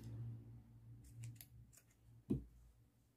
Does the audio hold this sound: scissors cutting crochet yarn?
yes